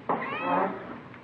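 A single drawn-out meow from a partly Siamese cat indoors, close and moderately loud, rising then falling over about a second.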